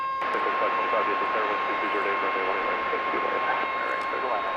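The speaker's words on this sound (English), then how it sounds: "There's the Air Canada Cargo 767, which should be taking off over here from to go to Mexico City." An Air Canada Cargo Boeing 767 jet taking off at DFW Airport gives off a steady, broad engine roar with a sustained whine, distant but continuous, and a voice talks over it.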